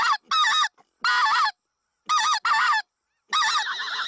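Goose call imitating honking geese, six loud nasal honks in uneven bursts separated by short silences, close and alone.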